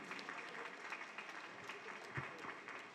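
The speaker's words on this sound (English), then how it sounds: "Give them a big round of applause for their hard work and dedication." An audience at a kindergarten school annual day celebration claps in sustained, even applause, faint and distant, with scattered louder claps throughout.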